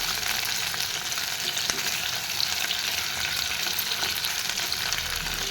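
Boiled potatoes fry in hot oil with cumin and spices, giving a steady, close crackling sizzle that runs without a break and stays even in loudness, with occasional light stirring scrapes and no voices.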